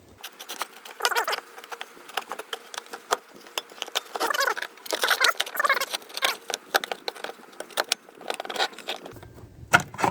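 An Evinrude/Johnson outboard motor's recoil starter being spun by hand to rewind its rope, giving irregular ratcheting clicks and rattling bursts at close range.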